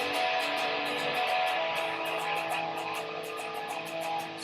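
Electric guitar octave chords strummed without muting the other strings, giving a dense, ringing, buzzy wash of notes with rapid rhythmic strumming throughout, played alone and close.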